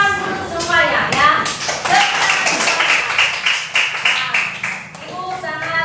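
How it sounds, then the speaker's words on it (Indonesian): Schoolchildren in a classroom clap their hands together in a rhythmic burst of quick claps that swells and fades over several seconds, with voices chattering and calling out over it. "Nah, tepuk tangan dulu semuanya ya."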